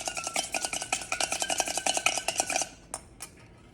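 A utensil scrapes and clinks rapidly against a bowl, mixing a salad dressing made with mayonnaise, then a couple of final taps ring out alone.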